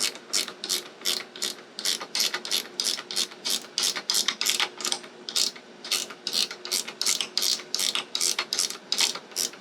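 A hand ratchet tightens a part on an old JCPenney Bird minibike, clicking in quick repeated bursts of sharp pawl ticks, close and steady, with no talking.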